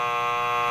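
A single loud, flat electronic buzzer drones steadily for under a second before cutting off.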